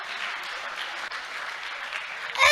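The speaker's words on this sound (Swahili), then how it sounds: "Wapi makofi ya AIC Chebarus." A church youth audience claps in a dense, steady burst of applause that swells louder at the very end, with faint cheering mixed in.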